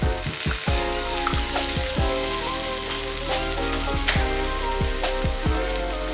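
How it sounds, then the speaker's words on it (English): A pan of hash with an egg cracked into the center, giving a steady close sizzle and crackle under a repeating clanking rhythm, with no talk. "We're going to take our egg and just crack it right in the center."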